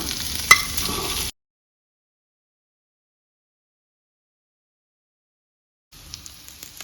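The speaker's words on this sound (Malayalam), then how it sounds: "മീഡിയം ഫ്ലെയിമിലാണ് നമ്മളിപ്പോൾ ചിക്കൻ ഫ്രൈ ചെയ്യുന്നത്" Masala-marinated chicken frying in ghee over a medium flame for Afghani biryani; a close, bright sizzle for about a second with a sharp pop, then sudden silence before a fainter sizzle returns.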